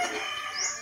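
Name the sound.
chicken clucking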